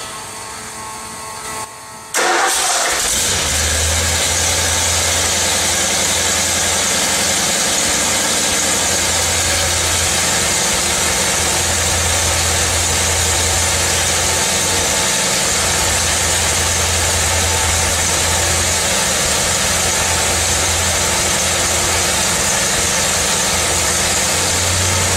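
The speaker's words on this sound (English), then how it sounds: "So there's your engine running." A car engine with TurnkeyEFI Speedmaster fuel injection starts up and settles into a steady, loud idle with a constant low rumble and slight vibration, with no talking.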